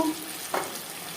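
Ginger and green chili paste sizzle in a pan with cooked onion and tomato for a tilapia fish curry, giving a quiet, close hiss with a brief scrape or splutter in the middle.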